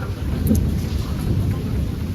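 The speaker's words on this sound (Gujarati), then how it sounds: "જોઈ લ્યો ભાઈ વરસાદ કેવો આવે છે બધા એક વાર" Rain falls steadily outdoors with a low rumbling thunder-like roar, a dense close wash of drops and a deep continuous rumble with no clear talking.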